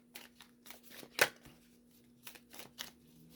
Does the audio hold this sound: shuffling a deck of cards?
yes